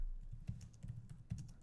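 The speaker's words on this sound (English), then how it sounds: "Give me a second here. I'm typing on" Soft, close keystrokes tap irregularly on a computer keyboard, quiet clicks in a short burst.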